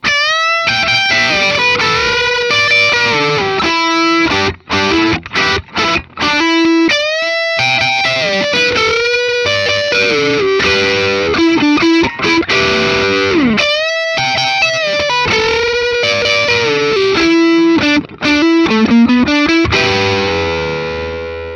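Heavily distorted 1981 Gibson Les Paul Heritage 80 Elite electric guitar plays a driving classic rock riff, loud and continuous, with brief choppy stops between phrases and no voices.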